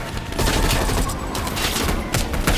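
Dense, continuous gunfire from the Call of Duty video game, a loud nonstop fusillade of rapid shots that fills the whole stretch without a break.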